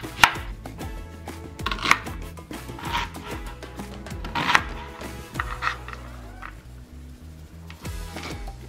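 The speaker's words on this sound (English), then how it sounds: "Now chop your carrots. Now chop your onion." A knife chops carrots and onion on a cutting board for shepherd's pie, making a steady run of crisp, close thuds and clicks with short pauses between strokes and no talking.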